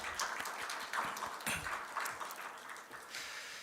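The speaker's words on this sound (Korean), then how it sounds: "우리의 새 가족을 큰 박수로 환영하겠습니다" A church congregation at a Sunday youth service applauds to welcome newly registered members, a dense wash of clapping from many hands that swells and sustains steadily throughout, filling the room at close range.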